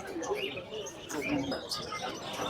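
Birds chirp and coo amid the bustle of the Margilan Kombinat bird market in Uzbekistan, a busy crowded wash of calls with people talking nearby.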